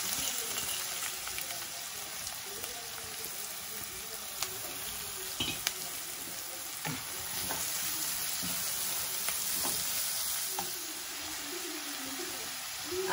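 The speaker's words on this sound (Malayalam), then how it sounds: "അപ്പൊ നമ്മൾ ഈ അരിഞ്ഞു വെച്ചിരുന്ന സവാള ഒന്ന് ചുട്ടെടുക്കാം." Chopped onions frying in hot oil, a continuous soft sizzle and crackle with occasional light stirring taps, fairly quiet and steady throughout with no talking.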